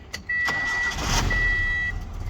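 A 120-horsepower car engine revs hard and steadily with a loud, close exhaust note, holding its roar for about two seconds before easing slightly.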